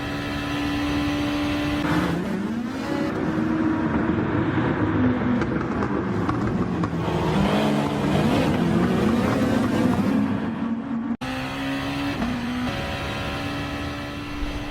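A Super GT race car at Red Bull Ring in Gran Turismo Sport screams loudly through rising and falling revs and gear changes, with a brief abrupt cut before the engine roars on.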